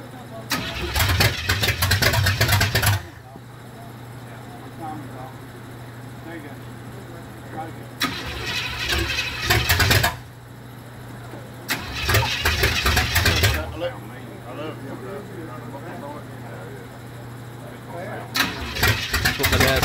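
A rat rod car's engine is started repeatedly during a fall 2017 build. Loud bursts of cranking and catching, each two to three seconds, are separated by quieter stretches where people can be heard talking.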